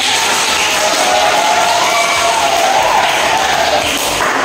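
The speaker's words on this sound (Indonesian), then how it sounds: "Bagus, tepuk tangan untuk teman-teman." Classmates clapping for each other in a school classroom, loud continuous applause with a noisy crowd murmur throughout.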